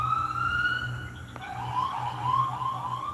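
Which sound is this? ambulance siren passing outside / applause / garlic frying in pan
ambulance siren passing outside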